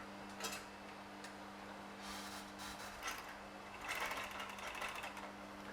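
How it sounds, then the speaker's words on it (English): An overlock machine seams the shoulders of hemp knitwear and trims off the fabric edge, running in short bursts of rapid mechanical stitching over a low steady hum. It sounds close, with brief pauses between runs. "this machine is both locking the shoulders together and cutting a little part of the fabric off"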